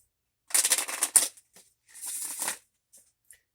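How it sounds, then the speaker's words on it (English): Tarot cards riffled and reshuffled close up in two quick bursts of crisp papery flutter, followed by a few soft taps as the deck settles. "we're going to reshuffle this one"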